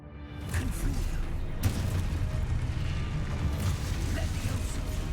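Confringo fire spell explosions in Hogwarts Legacy, a continuous rumbling blast texture with a sharper burst near 1.6 s, loud and dense, mixed with game combat noise and no clear voices.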